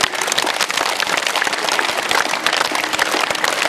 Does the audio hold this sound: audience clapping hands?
yes